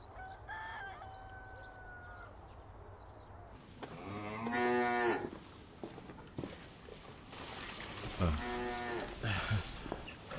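Cattle in a cow shed give two loud, drawn-out moos a few seconds apart, preceded by a fainter, higher bird-like call over low background noise.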